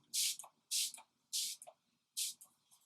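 Four short, close hissing sprays of makeup setting spray from a pump bottle, evenly spaced with brief pauses between each spritz.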